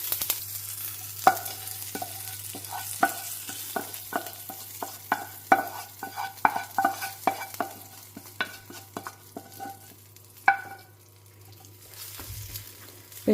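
A green-chilli tempering is stirred through cooked sago with a spoon scraping rhythmically against the pan, each stroke a sharp click over a faint sizzle and low steady hum.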